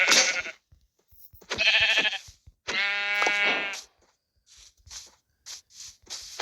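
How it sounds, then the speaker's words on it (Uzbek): Sheep in a video game bleat in three clear, close calls one after another, followed by a string of quieter short bursts of game sound. "Lekin bu yerda qo'ylar turibdi."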